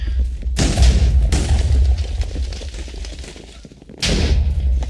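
Booming gunfire from the Quake minigame in Minecraft: two heavy blasts with long rumbling low-end tails, spaced a few seconds apart, loud and close.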